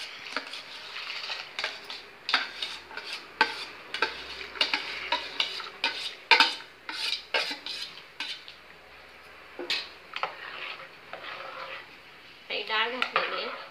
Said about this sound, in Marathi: आता या पाण्याला उकळी आलेली धुवून घेतलेली डाळ घालूया आपण।